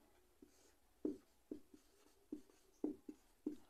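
Chalk or marker strokes on a classroom board, a series of short scratchy bursts in an irregular rhythm, fairly close and alone with no talking.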